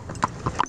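A buggy horse's hooves clip-clop on pavement, three distinct hoof strikes in a brief uneven rhythm, close and moderately loud.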